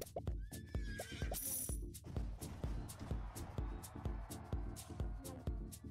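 Horse in a Roblox video game, with a clear whinny near the start over a steady, rhythmic clip-clop of hooves that continues throughout, fairly close and with no voices.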